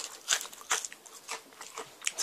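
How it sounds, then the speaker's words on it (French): A crispy caramel Japanese snack is crunched in bites, a series of sharp, close crunches spaced irregularly and heard alone. "Ça croustille."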